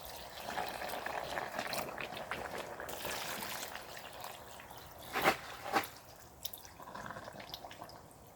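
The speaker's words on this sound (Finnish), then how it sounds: "Ja peitetään se vedellä." Clean water trickles and drips into a jar of crushed apples being readied for homemade apple cider vinegar, soft and close, with a few louder splashy pours near the end.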